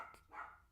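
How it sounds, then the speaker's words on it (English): A dog barks a couple of times, faint and somewhat distant, with quiet room tone between the short barks. "Oh, my dog's barking."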